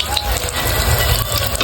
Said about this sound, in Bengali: তেলে ছাড়া হবে এবার ফার্স্ট ফিশ ফিঙ্গার, যেটা তেলে ছাড়া হলো।